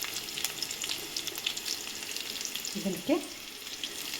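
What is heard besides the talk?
curry leaves and chilies frying in oil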